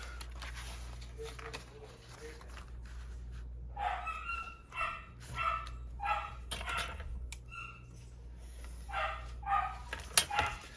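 A pet dog indoors barks repeatedly in short bursts, moderately close, with a steady low hum underneath and irregular pauses between barks.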